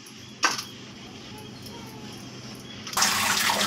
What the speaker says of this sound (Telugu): చికెన్ని 2 times కడుక్కోవాలి నీట్గా.